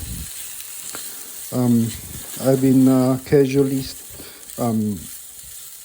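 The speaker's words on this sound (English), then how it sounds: "So I'm just going to stir fry it." Food sizzles and crackles in a hot pan as it is stirred, with a person speaking intermittently over the frying.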